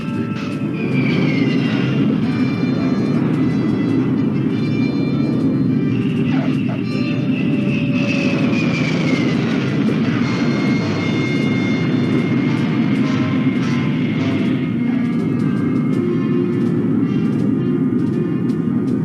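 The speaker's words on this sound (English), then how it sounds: "The whine of the jet engines fade away as the test aircraft come to park position" Steady roar of military test aircraft jet engines with a high whine riding over it as they taxi, continuous and fairly loud for the whole stretch.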